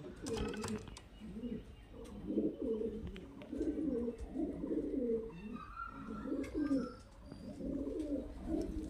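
Pigeons coo in repeated low rolling phrases close by while someone talks over them, among highflyer pigeons kept for sale in a loft.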